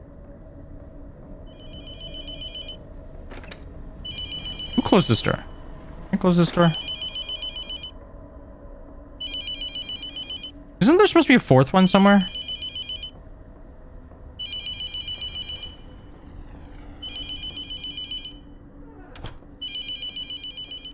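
An old-style telephone bell rings repeatedly in a horror video game, sounding in regular bursts with short gaps, loud and clear while a player talks over it at times.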